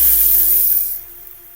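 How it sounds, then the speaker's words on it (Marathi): A hot Maharashtrian tempering is poured into a pot of cooked dal and sizzles loudly at once. The close, bright hiss fades over about a second and leaves a quieter crackle, with no talking. "आता ही फोडणी या डाळीमध्ये आपण ओतून देऊया"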